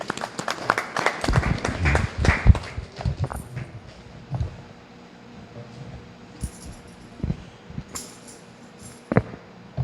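A temple audience at a Hanuman Jayanti satsangh gives a round of applause to welcome a speaker. It starts as a fairly soft, dense patter of clapping for a few seconds, then thins to scattered claps and quiet room noise.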